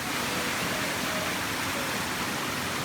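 Steady, dense roar of rushing water at the foot of a Thai waterfall, a broad continuous wash heard up close with no speech over it.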